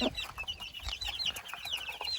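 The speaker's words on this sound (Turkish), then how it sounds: "Şöyle tavuğumuz." A chicken clucks repeatedly in short, chirpy bursts, fairly close, with soft background noise and no talking.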